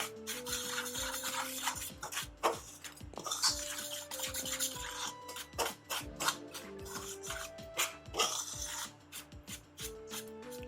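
Flour, curry powder, sugar and other dry ingredients for Jamaican beef patty dough are stirred in a bowl, making repeated scraping and rubbing strokes with light knocks against the bowl, close and fairly quiet, with no talking.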